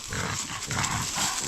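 A dog in a dry forest gives a few short, close barks or huffs in quick succession, loud and clear with no talk.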